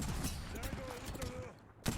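Gunfire in a battle royale video game, a quick fusillade of shots at moderate distance under game sound, ending with a sharper close burst.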